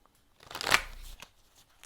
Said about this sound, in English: Oh, I forgot these cards. Let me shuffle them in.